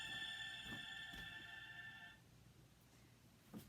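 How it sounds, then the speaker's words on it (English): A phone rings with a repeating electronic tone for a couple of seconds before cutting off, faint and indoors with soft background noise. "I hear my phone going off."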